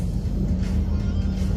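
A car drives through flood water on a street at night, with a steady, heavy low rumble of engine and churning water, continuous and close.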